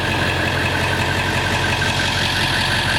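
A 7.3-liter Powerstroke diesel engine in a 1998 Ford E-350 bucket truck idles steadily, loud and close, with a continuous rumbling clatter and no other sounds.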